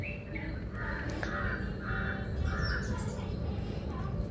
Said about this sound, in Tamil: காக்கைகள்